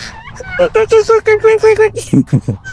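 Chickens at a resort in Zambales cluck loudly and close by in a rapid, even series of calls, ending with a few sharper squawks.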